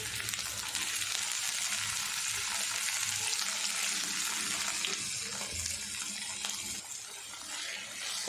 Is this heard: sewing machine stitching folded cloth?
no